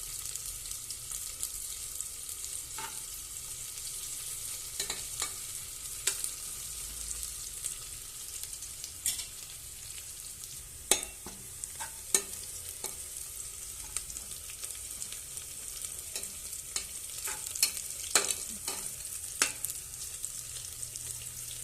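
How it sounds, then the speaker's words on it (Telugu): Onions and curry leaves fry in a pan for chicken gravy, a constant bright sizzling hiss scattered with sharp crackles and spits over about twenty seconds. "కరివేపాకు వేసుకున్నాను. బాగా ఫ్రై చేసి"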